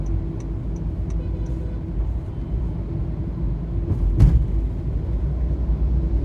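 Heavy trucks crawl along a congested two-lane road with an occupied shoulder, producing a continuous low engine rumble with a brief louder swell partway through; no talking.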